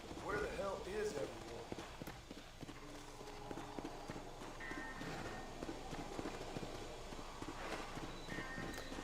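Horse hooves clip-clop at a steady trot in the video game Red Dead Redemption on Xbox One, close and continuous, with voices and background game sounds mixed in.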